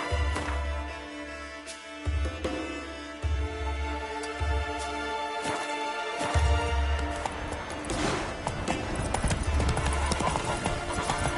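Roach the horse galloping in Witcher 3, a steady rhythmic clip-clop of hooves running for the whole stretch, loud and close, over game music and ambience.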